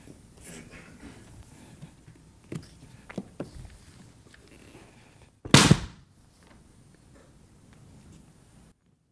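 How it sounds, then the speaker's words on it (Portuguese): One sharp, loud gunshot-like bang cracks out midway through an otherwise quiet indoor scene, preceded by a few soft knocks and shuffles and followed by near silence. "O tiro."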